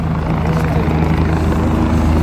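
A helicopter near the Kedarnath temple in the Himalayas, loud and close with a steady thudding rotor drone that fills the whole stretch without letup.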